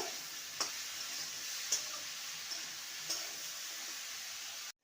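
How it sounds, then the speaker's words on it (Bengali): Snake gourd (chichinga) frying in a pan gives a steady, soft, hissing sizzle, with a few faint stirring clicks scattered through it and no voices. "ভালো করে ভেজে নেব"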